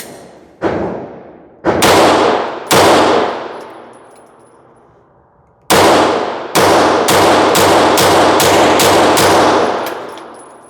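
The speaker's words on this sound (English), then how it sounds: "So if you just hold the trigger to the back, only one shot comes out." Rifle fitted with a TriggerTech Ace trigger fires about ten loud, close gunshots, each with a ringing decay: three spaced single shots, a pause, then a quicker string of shots in steady succession.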